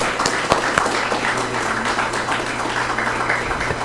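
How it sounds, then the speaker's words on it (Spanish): Audience applause for a speaker at an evening debate event, dense steady clapping from a crowd in a room with a low hum beneath, sustained for several seconds. "Le damos un aplauso, por favor."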